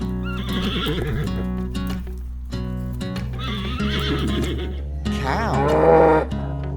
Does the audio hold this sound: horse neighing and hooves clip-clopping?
yes